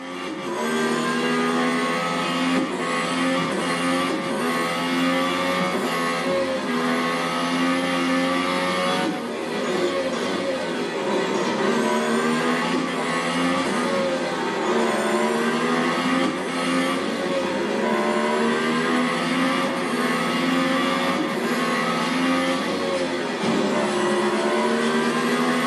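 Race car engines roaring in the mobile racing game Real Racing 3, loud and continuous, with rising and falling revs as gears shift, a steady whine layered over the engine drone throughout.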